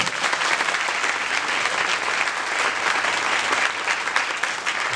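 A church congregation at a gathering in Jakadbandha claps loudly, dense continuous applause holding steady throughout with no pause.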